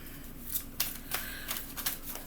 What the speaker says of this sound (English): Let me just move the thing out so I can shuffle these a little better